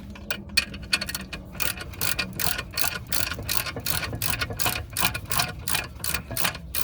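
A ratchet works loose a brake caliper screw on a Mercedes-Benz during a rear brake disc and rotor change, giving a fast run of loud, close, evenly spaced metallic clicks that continues steadily throughout.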